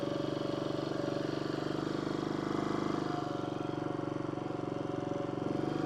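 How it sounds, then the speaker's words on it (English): A 1965 Honda Trail 90 CT200 four-stroke motorcycle engine runs steadily at a smooth, even idle. It is close and continuous, with a slight swell in the middle and no voices. "Now this is the old Honda 4-stroke, so those 4-strokes, they are torquey and they are smooth."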